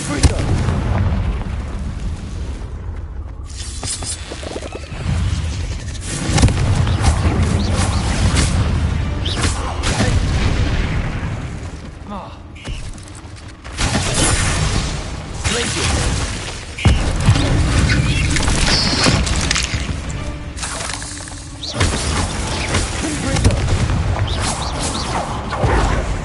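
Repeated Confringo blasting-spell explosions in the video game Hogwarts Legacy, loud booming bursts and crackling impacts that arrive in clusters over about half a minute, mixed with game effects and a voice in places.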